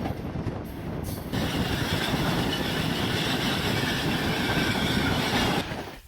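Hungarian MÁV train rolling steadily close by on the approach to Budapest-Keleti station, a loud continuous rumble with wheel and rail noise that swells after a brief quieter start and fades at the end.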